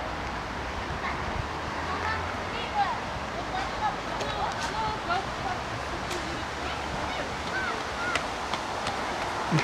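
A city fountain in Taraz runs with a steady, broad rush of splashing water, with voices and faint outdoor sounds over it.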